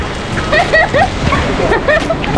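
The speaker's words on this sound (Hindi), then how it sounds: "बारिश हो रही है यहाँ बहुत तेज।" Heavy rain pours steadily as a broad, continuous hiss, with a person talking over it throughout.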